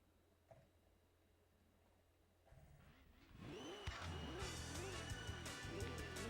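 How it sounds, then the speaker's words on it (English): A race car's turbo engine and dump valve in Gran Turismo 2 on the PlayStation start quiet, then the engine revs up loudly with repeated rising and falling surges as gears change, with faint talk early on. "This is the happy turbo noises we were looking for."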